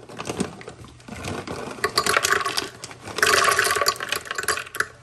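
Filtered water poured into a Vitamix blender jar over raw cashews, an uneven splashing and gurgling stream that surges in louder bursts, with no talk.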